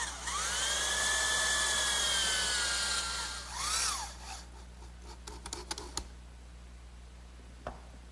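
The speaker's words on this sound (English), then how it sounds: "I'll fasten this with a drywall screw" Power drill driving a drywall screw into wood in a woodworking shop, a loud whining spin for about three seconds that winds down and stops, then a few light taps and handling clicks.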